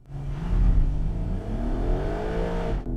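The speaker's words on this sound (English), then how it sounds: "Shall we see if launch control is working properly?" Porsche 911 GTS Cabrio launching hard under launch control, the engine note swelling loud and near, then climbing steadily in pitch through the rev range before cutting off abruptly at the end.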